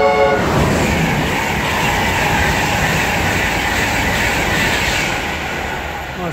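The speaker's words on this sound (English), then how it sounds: "Okay guys, the next train's going to be 91." A British Rail Class 91 train blasts past with a brief horn note at the start, then a loud, sustained roar and rattle of wheels on track. The sound eases off slightly toward the end.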